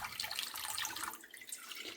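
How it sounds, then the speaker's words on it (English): Tap water runs steadily into a sink while dishes are being washed, a continuous close splashing hiss with no talking. "you can pour a lot of water on top of it"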